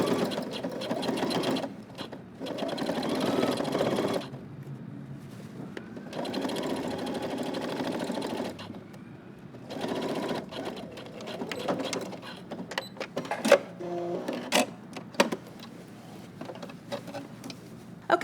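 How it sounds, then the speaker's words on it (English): A sewing machine stitches through all layers of a pair of slacks in several bursts of steady, rapid mechanical chatter, with pauses and scattered clicks and handling sounds between runs, close up and without talk. "I'm just gonna follow the existing stitching line and stitch through all layers."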